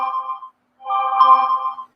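A mobile phone ringtone sounds close by in a quiet room, two bursts of a tonal electronic ring separated by a brief pause.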